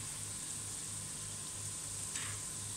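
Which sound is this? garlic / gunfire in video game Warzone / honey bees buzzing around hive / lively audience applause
garlic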